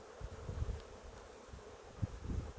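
Honeybees buzz faintly around an open beehive during a brood frame inspection, a soft steady drone with light rustling and handling noise, no voices.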